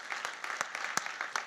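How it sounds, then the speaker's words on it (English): A small audience applauds with brief, scattered claps that keep a steady patter throughout. "give yourselves a round of applause"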